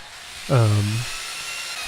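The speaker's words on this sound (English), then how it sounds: "just drill those approximately to the right depth." A power drill briefly bores a hole for a homemade dance pad replica, a short whining burst that drops in pitch as it slows, then a faint hiss behind it.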